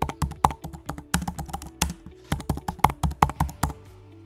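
Quick keystrokes on a computer keyboard, close and crisp, an irregular patter of taps with short pauses between bursts, heard alone.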